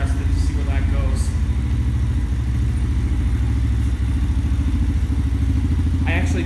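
X-22 125cc motorcycle engine running smoothly, a close, even low putter that holds steady throughout while someone talks over it.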